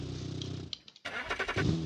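A restomod car engine in the BeamNG video game cranks and fires up, settling into a rough mid-pitched idle before a sharp rev rises and falls close by.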